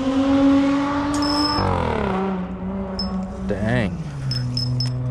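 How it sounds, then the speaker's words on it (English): A fast car passes near an urban pond, its engine note rising and then sliding down in pitch as it speeds by, with a second sweep soon after, while someone talks nearby. "That guy's got a fast car."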